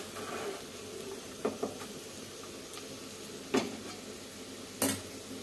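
Curry fries in a pan with a soft steady sizzle, broken by a few sharp scrapes and clinks of a utensil stirring against the metal, fairly faint and without talk.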